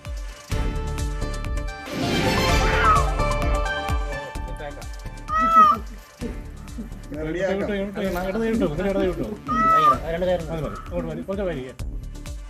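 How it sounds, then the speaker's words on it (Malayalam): A cat stuck up a tree in Vithura, Thiruvananthapuram, gives several loud, drawn-out meows, one after another. Birds coo faintly in the background, and a voice can be heard at points. "തിരുവനന്തപുരം വിതുരയിൽ മരത്തിൽ പൂച്ച കുടുങ്ങി"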